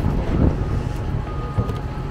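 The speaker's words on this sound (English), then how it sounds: "it's a bit breezy. Windy" Wind buffets the microphone in low, rumbling gusts, a steady blustery roar with a couple of stronger puffs.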